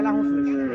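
A Friesian calf at a livestock market in Cumilla gives one short, loud, close moo that holds a steady tone before trailing off.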